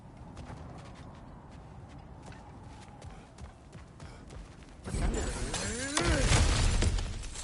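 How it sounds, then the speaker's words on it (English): Objects smashing and breaking apart in the action game God of War Ragnarok, a loud burst of crashing, shattering debris in the second half following quieter ambience and voices. "Ah, back to smashing through things for fun and profit."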